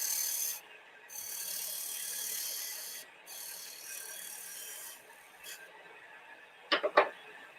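A parting chisel pares thin shavings from wood in steady rasping strokes with short pauses between them, ending in a few sharp scraping bursts, close and alone.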